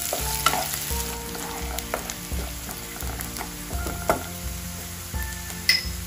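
Chopped onion frying in a pan and being stirred until soft, a continuous sizzle broken by repeated scraping strokes of a spoon and a few sharp clinks against the pan.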